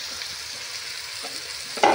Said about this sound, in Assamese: তাতে মাংসখিনি দিয়াৰ পিছত অলপ লৰাই দিলে হ'ল